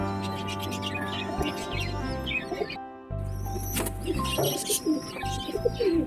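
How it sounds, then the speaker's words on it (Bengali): Low, rolling pigeon coos repeat at close range in a pigeon loft, with a brief pause midway and faint chirps and rustling around them. "এই যে পায়রাটি দেখছো"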